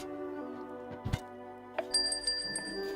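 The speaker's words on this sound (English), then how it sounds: "A bell rings." A small bell, bright like a bicycle bell, rings with a lingering high shimmer after a couple of soft clinks and knocks, all quiet and close with no talking.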